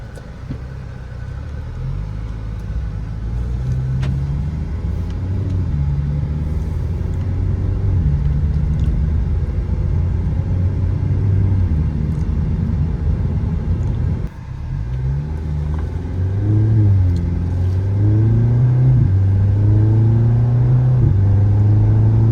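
Steady road and tire roar from a 4-cylinder Ford Mustang cruising, a continuous low rumble with mild engine swells and one brief dip, heard from inside the cabin with no talking.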